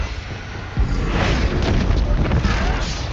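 Expulso spell blast in Hogwarts Legacy, a sudden deep boom breaking in after a moment and rumbling on under a voice and continuing combat noise.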